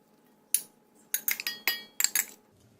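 Chopped kimchi and pork belly tumble into a stew pot for kimchi jjigae, making a handful of sharp clattering drops and clinks in quick bursts, close and fairly quiet.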